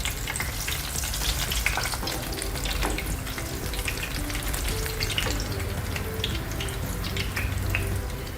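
An airolya, a traditional Maharashtrian sweet, fries in oil in a pan after being flipped, giving a dense, even, close sizzle with light crackle throughout and no talking.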